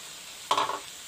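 Peppers, hot and bell, drop into a pan of frying Egyptian sausage, setting off a sudden burst of sizzle that swells, crackles briefly and settles back to a low steady fry.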